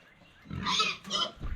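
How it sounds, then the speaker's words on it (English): Close, loud grunting and squealing from pigs, two rough snorting bursts in quick succession. "They're good pigs, y'all."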